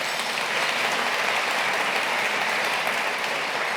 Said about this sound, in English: Let's give a round of applause to our sponsors today.